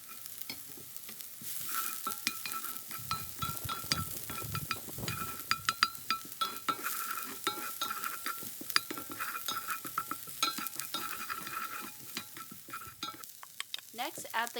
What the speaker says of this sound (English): Start by heating a little bit of vegetable oil in the pan. Then add your shallot and cook for 1 minute.